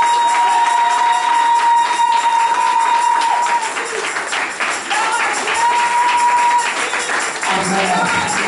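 A church congregation applauds and cheers together during worship, producing a loud, sustained wash of clapping and shouts with sharp whistles piercing through, dipping briefly midway before swelling again.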